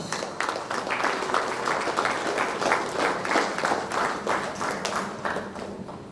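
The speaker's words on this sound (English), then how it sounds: "let's give a huge applause for every person out here" Sustained applause from an audience at a panel discussion, many people clapping in a steady, fairly loud patter that builds slightly and then tapers toward the end.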